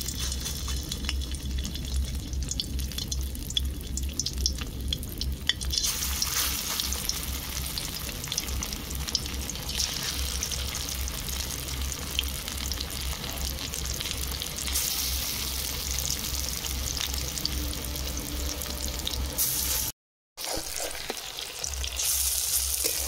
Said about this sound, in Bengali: চিংড়ি মাছের মাথা দিয়ে আর মসুর ডাল দিয়ে বড়া ভাজা হয়ে গেছে